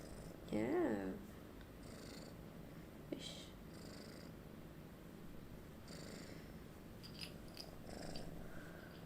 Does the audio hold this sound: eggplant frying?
no